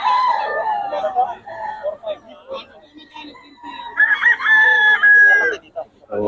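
Roosters from Pampanga crow loudly and close by, with a long drawn-out crow near the end and scattered clucking and calls between the crows.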